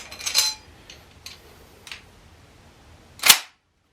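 An eight-round gun being loaded by pressing down and snapping up, giving a short metallic rattle, a couple of faint clicks and one sharp, loud snap near the end.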